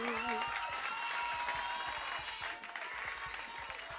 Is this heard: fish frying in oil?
no